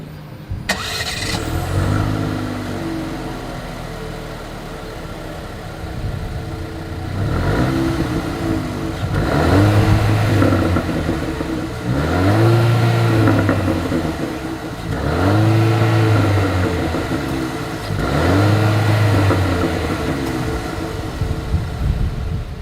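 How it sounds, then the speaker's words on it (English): A 2022 Jeep Renegade engine starts, then revs repeatedly in five strong surges with brief drops to idle between them, loud and close at the exhaust. "As always, here is that exhaust clip."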